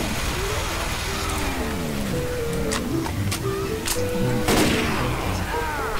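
Gunfire in the zombie shooter Left 4 Dead 2 crackles through dense, continuous game noise, with sharp shots scattered through the clip and a heavier blast near the end, while voices talk over it.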